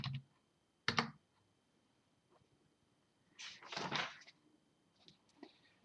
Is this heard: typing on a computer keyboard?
yes